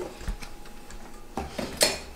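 Cooked potatoes for buttermilk mashed potatoes, made with salted butter and heavy cream, tumble into a metal mixer bowl with a few clattering knocks and clinks, the loudest near the end, close by and without talk.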